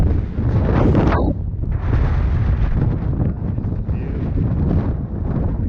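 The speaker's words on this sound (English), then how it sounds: "It is windy." Strong wind on a clifftop on Mykonos buffets the microphone, a loud, continuous rumbling roar that rises and falls in gusts.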